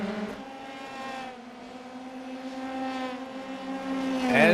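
Formula 3 race cars lap the Watkins Glen circuit in a racing simulator, a near engine whining steadily with pitch rising and falling through gear changes and another car closing in at the end.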